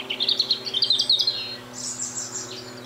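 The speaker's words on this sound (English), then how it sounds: "Listen to those birds." A small bird sings a quick, high run of chirps, followed by a softer, trailing warble nearby, with a low hum in the background.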